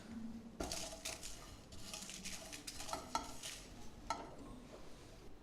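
Cashew nuts and red chilies hit a hot pan with kasuri methi, giving a steady close sizzle with repeated stirring scrapes and light clinks of a utensil against the pan.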